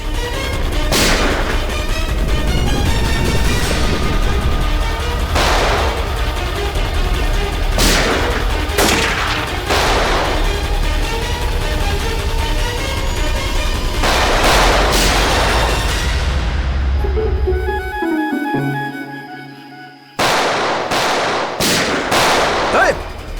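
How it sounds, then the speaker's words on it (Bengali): Rapid gunfire in a crime-drama chase scene: loud, close bursts of repeated shots in clusters across the clip, with a brief lull before a final volley of sharp cracks. "অনেক চালিয়েছিস গুলি, চল।"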